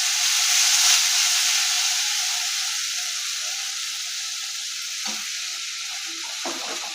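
Spices sautéing in oil for a paneer dalna, a loud, close, hissing sizzle that fades slightly over time, with a few stirring scrapes near the end.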